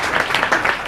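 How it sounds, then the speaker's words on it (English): Brief burst of audience applause at a Serial Cup event, close, dense clapping lasting under a second with no voices over it. "so one applause for her,"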